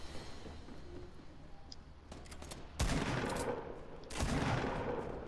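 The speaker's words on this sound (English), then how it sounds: "Who you shooting at, bro?" Gunfire in Fortnite arrives as two sharp, loud bursts of shots over faint background activity, each burst trailing off quickly, with no talking.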